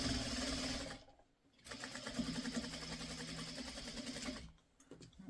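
A sewing machine runs steadily while stitching a quarter-inch seam on quilt fabric from a pre-cut canning jar quilt kit, its motor hum continuous and close, dropping out briefly between runs.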